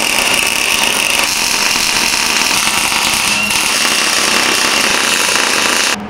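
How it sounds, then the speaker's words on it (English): Tack welds go onto the steel frame of a 2x72 belt grinder, giving a loud, harsh, crackling buzz that holds steady without a break and cuts off just before the end. "Gonna be tacking this up."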